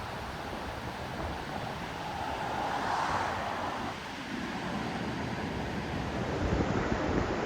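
Ocean surf rolling onto Torrey Pines Beach, a steady broad wash of breaking waves with wind rumble, swelling slightly midway and continuing unbroken, no voices.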